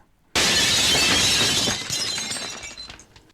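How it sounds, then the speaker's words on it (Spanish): All the glass panes in a house shatter at once: a sudden loud crash after a quiet moment, then a dense spray of breaking glass that tapers into tinkling fragments. "todos los vidrios de la casa se rompieron al unísono"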